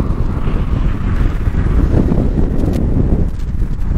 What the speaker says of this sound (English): I'm not sure if you'll be able to hear my voice over the wind.